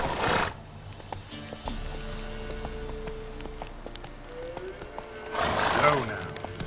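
Roach, Geralt's horse in The Witcher 3, whinnies and snorts at the start and again near the end, with soft hoof clip-clops between, while a voice speaks.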